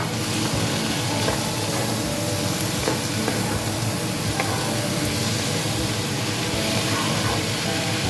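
Boiled banana flower stirred and sautéed in spice paste for a Bengali vegetarian mochar ghonto, a steady dense sizzle with scraping stirs running throughout at close range, no talk.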